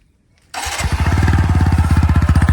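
A 2022 TVS Apache 160 HP Edition motorcycle cranks and fires after a half-second of quiet, settling into a loud, close, steady thumping idle with evenly spaced exhaust pulses.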